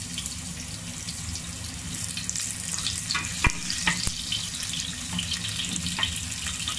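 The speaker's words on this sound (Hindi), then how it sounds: "अब उसके बाद हम इसे प्याज डाल देंगे।" Onions frying for Nepali momo filling in a pan, giving a steady close sizzle with a few stirring clicks and scrapes, no talking.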